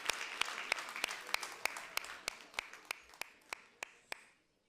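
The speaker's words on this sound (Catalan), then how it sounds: "Un fort aplaudiment, sisplau." An audience at an award ceremony for a school short-film contest claps in a steady, fairly even rhythm of loud individual claps over a softer crowd patter, fading out at the end.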